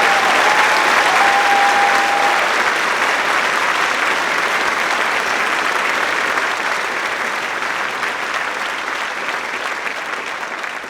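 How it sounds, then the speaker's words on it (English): An audience at an 8th grade graduation ceremony applauds in a dense, sustained wash of clapping that slowly tapers off toward the end. "Would everyone please join me just one more time in applauding for our student speakers"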